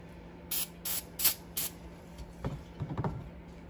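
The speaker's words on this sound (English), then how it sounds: "we'll squirt some more fluid on it" Short bursts of fluid squirted from a spray bottle onto an old Jonsered 80 chainsaw to find leaks: four quick hissing sprays close by, followed by light handling clatter and soft knocks.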